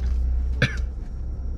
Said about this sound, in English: Look, you coughing and stuff.